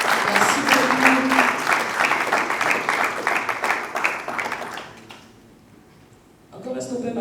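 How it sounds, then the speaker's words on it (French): Loud applause and cheering from an audience at a Congolese talk show honoring an expert guest, steady for about five seconds, then dropping to near quiet before voices return. "est-ce qu'on peut maximiser des acclamations pour notre expert?"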